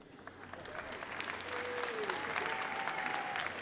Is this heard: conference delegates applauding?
yes